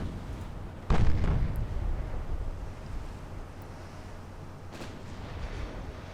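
Naval artillery in Ultimate Admiral: Dreadnoughts: one heavy gun blast about a second in, followed by a long low rumble over wind and sea noise, then a fainter second report near the end, without speech.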